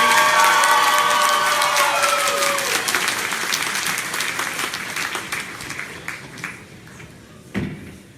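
Applause from a convention audience at a sketch comedy show, loud at first and thinning out gradually, with scattered claps and a few sharp knocks near the end.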